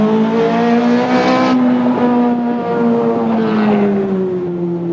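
A modded car engine in a video game, loud and close with a sustained high-pitched whine that holds steady, then slides gradually lower toward the end.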